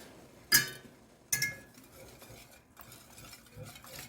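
Two sharp metallic clinks of a spoon against a pot, followed by quieter scraping and stirring sounds as jute leaves are stirred into simmering ayoyo soup.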